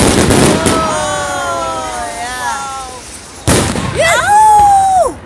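A fireworks grand finale sends heavy booms and bursts one after another, loud and close, with crackling trails, while spectators cheer and chat over it.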